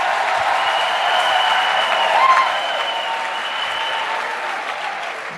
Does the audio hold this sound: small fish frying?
no